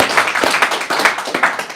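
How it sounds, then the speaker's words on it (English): A meeting audience claps in steady, brisk applause, dense and close, carrying on without a break. "So can we give a round of applause for Bob?"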